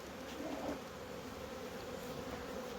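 Honey bees buzz faintly around hive boxes and honey supers nearly emptied by a rhombus escape board, a thin, continuous hum that stays low and distant throughout.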